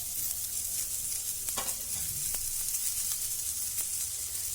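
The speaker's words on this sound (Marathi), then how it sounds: "लसूण आणि आल्याचे तुकडे पण घातलेले आहेत ते पण आपण याच्यात कांद्याबरोबर भाजून घेऊ" Onion, green chilies, garlic and ginger fry in a pan with a steady, close sizzle throughout, a few scrapes and clicks of stirring poking through the hiss.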